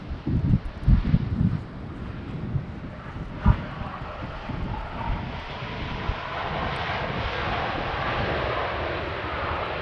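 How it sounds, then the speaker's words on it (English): A Transavia Boeing 737 airliner lands at Amsterdam Schiphol on a windy day, producing a steady broad engine roar with gusts of wind buffeting the microphone. "What you heard land just now was Transavia 737"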